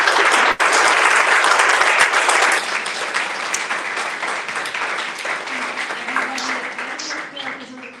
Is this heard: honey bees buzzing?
no